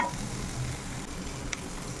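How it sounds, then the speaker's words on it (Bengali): An oats roll mixture with chopped green chili fries softly in a pan, a faint steady sizzle with a light stirring scrape near the middle, no voices. "এবার ভালো করে হালকা করে ভেজে ভেজে নিচ্ছি।"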